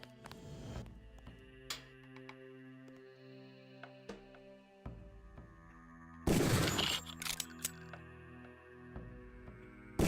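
Gunshots fired at a training target in the Deus Ex video game: a few sharp, separate shots with one louder burst in the middle, set against a quiet hum of game ambience.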